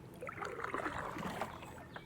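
Paddle strokes splash and gurgle through the water beside a Perception Outlaw 11.5 sit-on kayak, a steady wash of close dripping and trickling with no one talking.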